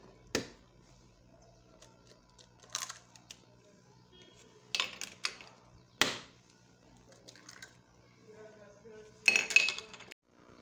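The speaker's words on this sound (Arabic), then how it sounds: "خلط المكونات جيدا" A spoon clinking against a bowl while mixing eggs, lemon zest and other ingredients, several sharp scattered taps and scrapes separated by quiet pauses, close and alone.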